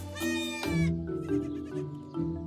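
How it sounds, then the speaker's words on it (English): A goat kept at a chateau gives a loud, close bleat, followed by softer bleating calls against quiet background noise. "Nicole and Stefan keep 3 goats at the chateau."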